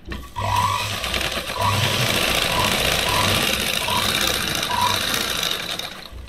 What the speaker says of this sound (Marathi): आता दुसरा धागा मी मशीनला अटॅच केला आणि राहिलेली ब्लाऊजची अस्तरची टीप मारायला सुरुवात केली